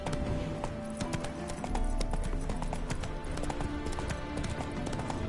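Horse hooves clip-clop at a steady trot in The Witcher 3: Wild Hunt, rhythmic close thuds over ambient game sound, with no voices.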